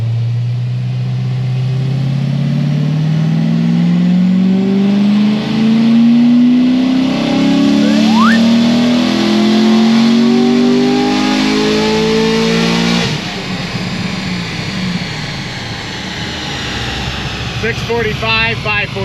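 An LS7 V8 in a naturally aspirated build roars loudly through a dyno pull, its pitch climbing steadily for about thirteen seconds before the throttle drops off and the engine burbles and crackles as it winds down.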